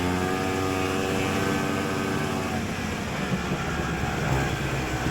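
A single-cylinder vintage snowmobile engine racing in a Wild Bill 20 one-lunger event, a steady, loud, buzzing drone held close throughout with no talk over it.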